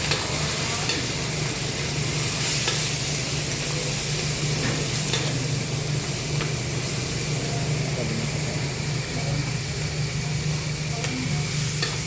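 Ground meat hits a pan of lightly browned fried garlic and onion for Nueva Ecija pansit kanin, giving a steady, close sizzle and frying hiss that runs throughout with occasional stirring scrapes.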